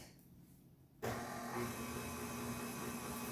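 An electric mixer whisks flour into cake batter for a zebra cake, switching on abruptly after a quiet second and then running as a loud, steady motor whir for the rest, with no talking.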